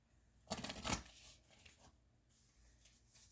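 Oracle cards are shuffled close by, a dense papery riffle for about half a second, then softer shuffling rustles and taps fading toward the end.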